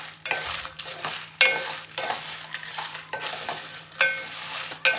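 Curry leaves and moringa dry-roasting in a pan, stirred with repeated scraping strokes that come in uneven bursts over a faint crackle, close and fairly loud, with no voices.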